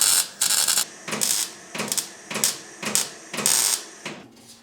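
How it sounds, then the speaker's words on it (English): Welding car body panels on a 2JZ-swapped Ford Sierra drift car: a series of about seven crackling, hissing bursts, each under half a second, repeating at a steady rhythm with short gaps between, close and fairly loud. "I've just welded it round now."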